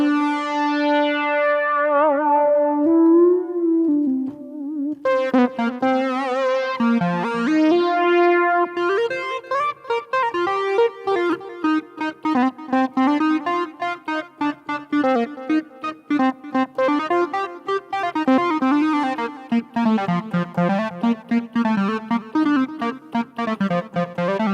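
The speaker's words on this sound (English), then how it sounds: "Oh, guitar like distortion, Lee." A loud, gritty distorted synth tone from a Syntronik guitar-like distortion patch on an iPad sustains, then breaks into a busy run of buzzing, guitar-like notes that rise and fall for the rest of the clip.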